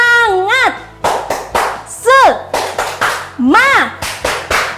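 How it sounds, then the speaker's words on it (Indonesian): A first-grade class follows their teacher in a rhythmic spirit clap, crisp claps in patterned bursts alternating with sung or chanted voices between them. "kita tepuk semangat dulu"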